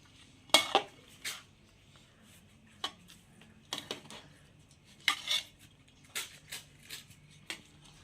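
Plates and dishes clink and clatter in scattered, irregular knocks as biryani is served, close by in an otherwise quiet room.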